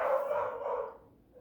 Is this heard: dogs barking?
yes